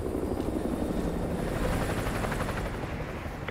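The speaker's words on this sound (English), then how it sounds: "Chopper inbound. Keep low." Helicopter flying overhead in the video game Modern Warfare 2, a steady loud rotor chop that swells slightly and then eases as it passes.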